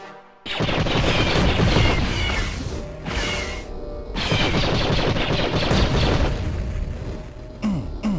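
Gunfire in the video game Duke Forces: loud, dense bursts of rapid automatic fire in two long volleys separated by a short gap, with booming impacts and a short quiet stretch before the firing starts.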